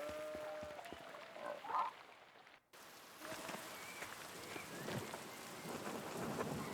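Heavy rain in Pentiment, a steady dull wash of falling water with faint rumbling, briefly cut by a gap before resuming, moderately quiet.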